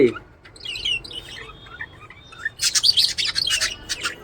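Lovebirds chirp in scattered bursts, quiet at first, then a busier flurry of high, rapid tweets close by.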